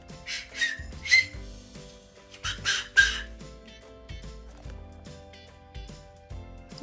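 A Ukrainian toy whistle (svystunets) is blown in short bright bursts, two pairs of shrill toots followed by quieter indoor sounds and rustling.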